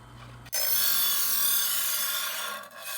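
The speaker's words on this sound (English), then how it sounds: "That motor is so weak. You listen to how easy that bogs down?" An electric two-step knife sharpener with coarse and fine slots runs its weak motor, a steady close grinding rasp that starts abruptly and drags down in strain as a blade is pulled through, dipping briefly near the end.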